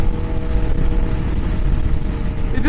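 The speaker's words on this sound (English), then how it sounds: "all the wind noise and this exhaust make it really tough" A loud, steady motorcycle exhaust rumble mixed with constant buffeting wind noise, continuous and close throughout.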